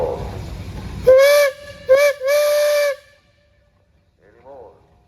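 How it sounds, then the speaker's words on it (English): A steam engine whistle sounds in the open air during a steam and threshing show parade in Mason, Michigan: two short blasts, then one longer sustained blast, loud and tonal, followed by a faint murmur. "All right, you got a whistle."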